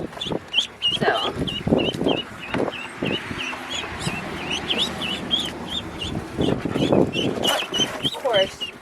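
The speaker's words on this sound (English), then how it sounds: "It's just really trying to keep the chickens out." Chickens cluck repeatedly and fairly close in a garden enclosure, short rhythmic calls running throughout, mixed with people talking and some rustling and handling noise.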